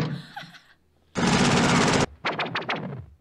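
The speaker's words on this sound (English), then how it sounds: "Whoa, lasers." Laser fire in the James Bond film Moonraker: a loud, sustained blast of bright noise lasting nearly a second, followed by a rapid string of shorter zapping bursts, with a voice briefly heard before the blast.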